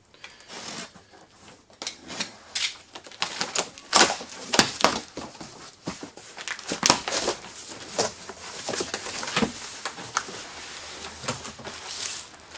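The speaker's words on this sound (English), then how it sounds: "grab a knife and cut" Tape being sliced with a knife and a Paradigm Defiance V12 subwoofer box opened, heard as close, irregular scraping, rasping and crinkling bursts of cardboard and tape without any talking.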